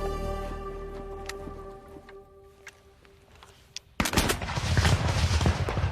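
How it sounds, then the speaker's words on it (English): Scattered gunshots crack over a droning hum, then a dense, loud barrage of rapid gunfire erupts and continues without pause, in a reenactment of the Battle of Waterloo. "Gunfire signals the beginning of the Battle of Waterloo."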